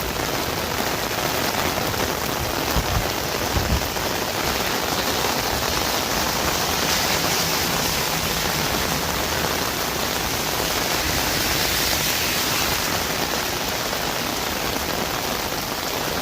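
Hard rain pours steadily onto a downtown street in North Bay during a thunderstorm, a dense, continuous hiss that stays loud and even throughout with no voices.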